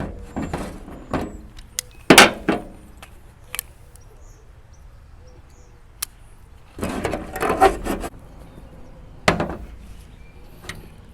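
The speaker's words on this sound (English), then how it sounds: "Having a little trouble with our can opener here." A manual can opener struggling to open a can of dried egg mix powder, with scattered clicks, scrapes and clunks in uneven bursts, some louder than others, with quiet pauses between them.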